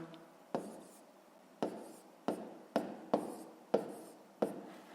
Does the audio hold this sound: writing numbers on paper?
yes